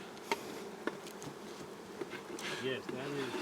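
Honey bees buzz around a stacked hive during colony combining, a soft continuous hum with individual bees droning past up close, and a couple of faint knocks.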